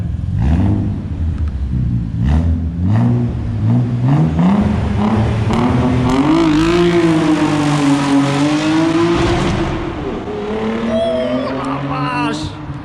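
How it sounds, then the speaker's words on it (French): Audi S4 tuned to RS4 spec with 450 horsepower accelerating hard through first and second gear, engine note climbing, dipping at the shift, then rising again loud and close, with people talking over it. "il va faire une petite accélération première, deuxième"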